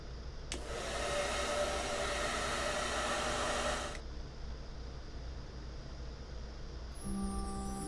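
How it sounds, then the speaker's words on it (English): A hair dryer in the game Broken Sword 3 blows with a steady whooshing hum for about three and a half seconds over a quiet background, then cuts off, leaving faint ambience. "The hairdryer was perfect."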